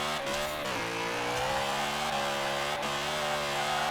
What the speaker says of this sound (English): It loves the rev limiter.